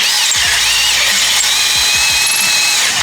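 Power drill boring a hole in metal on a BMW E36 for a thread insert, a loud, steady high-pitched whine held throughout with faint rhythmic ticking underneath, close up.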